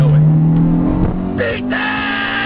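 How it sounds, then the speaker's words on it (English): A Honda VTEC engine revs loudly and close, its steady high drone shifting pitch as it climbs, with harsh chatter and a brief dip partway through. "Yeah, my VTEC pops."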